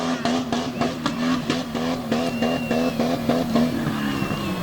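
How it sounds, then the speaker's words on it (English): A racing truck's engine bounces off the rev limiter as it crosses the finish line at a North vs South race at Front Royal: loud, close revving that stutters in rapid, regular pulses throughout. "Pushing the truck, really riding that rev limiter as he comes across the finish line at 20:33."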